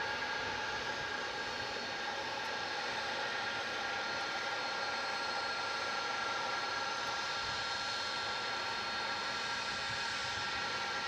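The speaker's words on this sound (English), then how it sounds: "you're hearing an A300 passing in front of us." An Airbus A300 jet passing at night at DFW Airport, a faint, steady engine rumble with a whining tonal hum that holds evenly throughout, with no talk.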